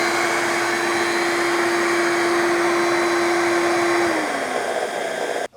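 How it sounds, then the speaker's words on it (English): A Shark HydroVac WD161 corded vacuum mop runs its self-cleaning rinse cycle with a loud, steady whir and a constant tonal hum that drops in pitch near the end as the motor winds down, then stops with a click. "Again, there's the self-cleaning. I just pressed this button."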